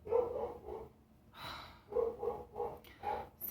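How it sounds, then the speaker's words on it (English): A pet dog barks at people walking past the property, several sharp, fairly close barks in two bursts with a breathy pause between them. "my dog is like barking his head off because people are walking past the property"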